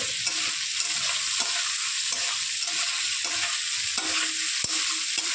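Cauliflower is stir-fried in a pan, with a continuous loud sizzle and rhythmic scraping strokes of a spatula repeating every half second or so.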